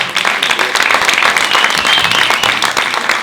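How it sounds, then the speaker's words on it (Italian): A theatre audience applauds during a comedy stage show, a dense steady wash of many hands clapping at close range, with a few voices mixed in. "Però ti faccio pigliare questo applauso"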